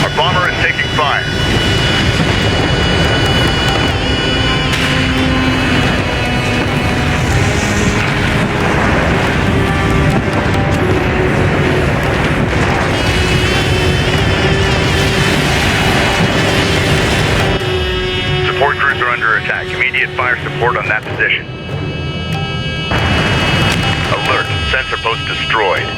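Aircraft engines roar steadily in Homeworld: Deserts of Kharak as gunships and bombers fight under artillery fire, with booms and explosions mixed into the sustained rumble and radio-style voices speaking over it.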